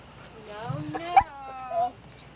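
Puppy whimpering in short, high, wavering cries at close range, with one brief louder yelp partway through, over a quiet indoor background.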